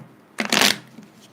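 Tarot cards being shuffled in the hands, one quick riffling burst under a second long, close and fairly loud against a quiet background.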